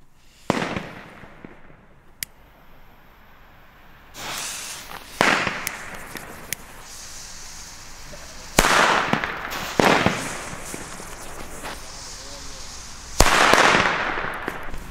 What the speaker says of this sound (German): Jetzt haben wir hier noch XP3-Knaller.